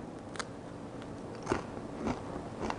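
Someone bites and chews a piece of crisp homemade pizza dough up close, giving soft crunching crackles at irregular intervals over a quiet, steady room background.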